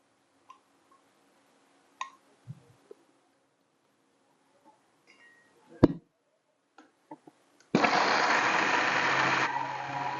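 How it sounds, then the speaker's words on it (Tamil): A kitchen mixer grinder starts up grinding soaked ginger and spices, a loud steady whirring roar after several faint clicks and knocks of setup. "இப்போ அதை நான் மிக்சியில் அரைச்சிட்டு உங்களுக்கு காமிக்கிறேன்"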